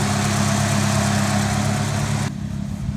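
A Honda S2000 fitted with a smaller exhaust idles loudly and close by, with a steady deep rumble that drops slightly in level near the end.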